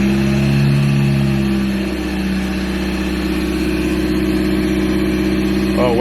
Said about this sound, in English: If I bring the revs up